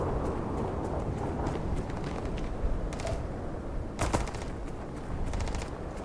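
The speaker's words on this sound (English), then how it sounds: "I hear gunfire up there." Rapid bursts of video game gunfire crackle over a steady noisy background, with a few sharper volleys standing out near the middle and end.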